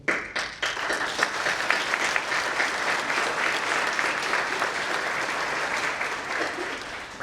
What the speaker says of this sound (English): Give yourselves another round of applause, please.